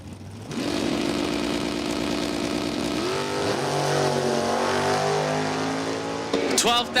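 Drag race cars launch at a dragstrip, one of them a Chevelle, engines roaring loudly and climbing in pitch as they pull away, with a track announcer talking over the noise.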